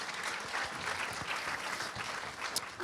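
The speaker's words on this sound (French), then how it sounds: "On applaudit bien fort Stéphane Béziot et Sylvie Audan." Steady applause from a large audience at a medical lecture, dense rapid clapping that stays even and fairly loud for the whole stretch.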